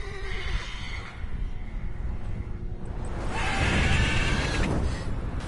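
A horse whinnies loudly in The Witcher 3 video game against a busy backdrop of rushing wind and hoof-like clatter, with a second neigh rising near the end.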